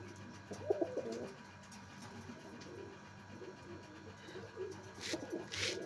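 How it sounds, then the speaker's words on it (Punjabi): Faint, low pigeon cooing in short bursts over a quiet background hum, with a brief higher noise near the end. "ਰਾਜਨ ਵਾਲਿਆਂ 'ਚੋਂ ਆ ਕਬੂਤਰ ਇਹ ਆਪਣਾ"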